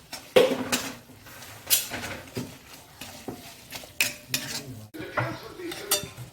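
Chicken curry masala being stirred and roasted in a pan: a series of close scraping and clinking stirring strokes with a faint sizzle beneath, in uneven bursts.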